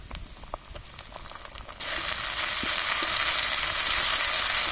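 Chopped onion and ginger-garlic paste hit hot oil in a pan, bursting into a loud, bright, continuous sizzle that holds steady after some quieter stirring taps, close by and without talk.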